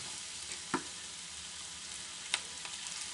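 Fish innards sizzle in hot oil in a frying pan alongside a small roach fish, a steady close hiss with a couple of brief spitting pops.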